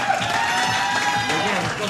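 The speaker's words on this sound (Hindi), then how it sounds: "तालियां बजाइए।" An audience at a Pakistani poetry segment claps in a steady, dense burst of applause that fills the short moment.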